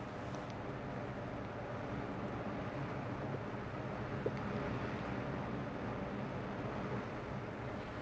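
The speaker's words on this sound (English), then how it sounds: "you can hear my exhaust fan blowing." An exhaust fan blows steadily indoors, a constant broadband whoosh with no talk over it, wind also drawing in through the opening.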